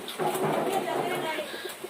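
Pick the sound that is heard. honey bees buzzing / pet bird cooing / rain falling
pet bird cooing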